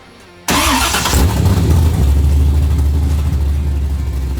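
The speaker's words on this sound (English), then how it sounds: "Now that the car is running, we got to start doing some things to finish it up" An LS-swapped Toyota 86 engine cranks and catches after a brief quiet moment, then settles into a loud, steady, rumbling idle close to the microphone for the remaining seconds.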